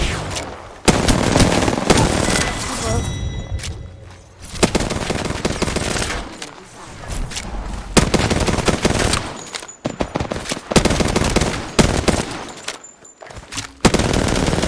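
Loud, close gunfire from the Apex Legends video game, with dense automatic bursts and single shots firing almost nonstop, separated by brief lulls.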